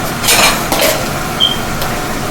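Dishes and cutlery clinking as they are handled and put away, a few sharp close chinks and clatters in quick succession, then a brief ringing ping, with no talk.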